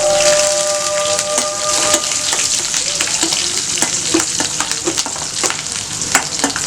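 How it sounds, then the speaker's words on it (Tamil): Garlic cloves and dried red chillies fry in hot oil with a loud, dense crackling sizzle. Sharp pops come close and often, and a few faint tonal rings sound near the start. "பூண்டு ஒரு 4 பல் போடுறேன்"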